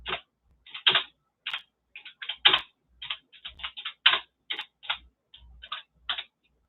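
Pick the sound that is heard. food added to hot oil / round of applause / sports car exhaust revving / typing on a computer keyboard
typing on a computer keyboard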